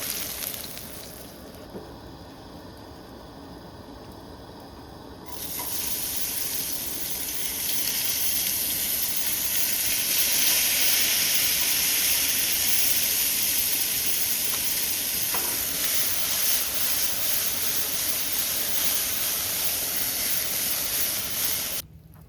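Steak and onions frying in a pan at a forest campsite, with a steady, close sizzling hiss that grows louder partway through and continues evenly with no talking.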